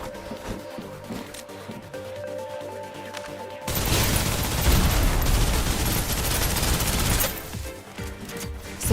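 Sustained gunfire in the Snowbreak shooter game, a dense roaring burst of automatic shots that erupts partway through and continues loud for several seconds before easing off, over game music.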